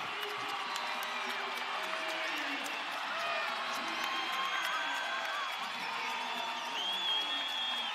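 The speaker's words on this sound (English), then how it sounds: "Crowd is on their feet." Wrestling crowd in an arena on its feet, cheering and applauding after an upset double-overtime win, a steady roar throughout with a commentator talking over it.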